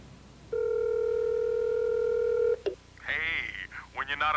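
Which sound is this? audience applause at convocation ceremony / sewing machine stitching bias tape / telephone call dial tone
telephone call dial tone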